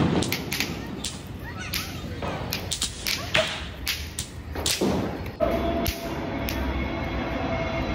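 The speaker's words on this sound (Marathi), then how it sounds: "आपटी बॉम्ब फोडण्याची मजा." Aapti bomb firecrackers burst during Diwali celebrations, a series of sharp, loud cracks and snaps at irregular intervals, some close and some further off, over a noisy outdoor background.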